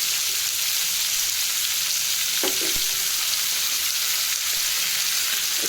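Fish frying in a pan in a home kitchen: a steady, loud hiss of sizzling oil throughout, with a couple of brief clinks of a utensil around the middle.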